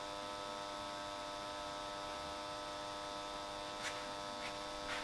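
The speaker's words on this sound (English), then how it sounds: "That ballast is quite loud." A GE 400W metal halide high bay lamp's ballast gives off a steady, loud electrical hum with a buzzy edge. It drones unchanging throughout, with a few faint clicks near the end and no talking.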